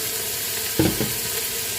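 A quiet background sizzle runs throughout, broken by a soft thump and a brief clatter as red beans drop into a hot frying pan for ghormeh sabzi.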